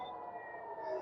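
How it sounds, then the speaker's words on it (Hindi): Air raid sirens wail continuously near an oil refinery in Haifa during a wartime rocket alert, a sustained droning tone held steady throughout with no talk over it. "लगातार जो सायरन है वो बज रहे हैं"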